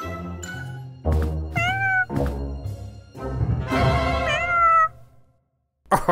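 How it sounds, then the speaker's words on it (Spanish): A cartoon cat meows several times in a Spanish-language Poppy Playtime animation, with loud, close, drawn-out rising and falling cries separated by brief pauses. "¡Ah, qué gato tan bonito!"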